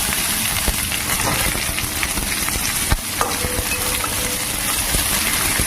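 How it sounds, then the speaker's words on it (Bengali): Chopped onions hiss and sizzle in hot oil while a dhaba-style pakoda kadhi is being cooked. The frying is loud, close and steady, with occasional spatters and a clatter midway. "পেঁয়াজ কুচিগুলো দিয়ে দেবো।"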